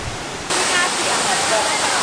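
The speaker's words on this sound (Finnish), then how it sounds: "Tää vesiputous on siis tämmöisessä paikassa kuin Namtok Filo luonnonpuistossa." Waterfall in a Thai nature park, reached on foot from a parking area: a steady, dense roar of falling water that swells in after a quieter half-second and then holds loud and unbroken.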